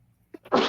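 One sharp sneeze comes at the very end after a couple of small intake sounds, close and fairly loud, with only a brief spoken word just before it.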